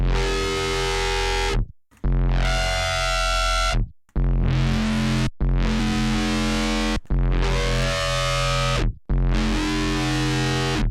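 Heavily distorted bass notes with effects, several sustained buzzing tones separated by short gaps, loud and gritty with no voices.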